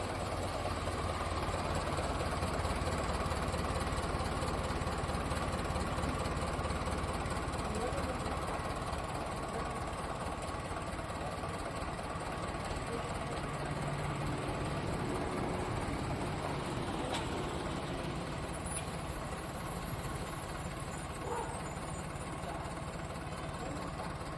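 A tractor's diesel engine idles steadily for the whole stretch, a constant low rumble with a faint knock, while people talk over it now and then.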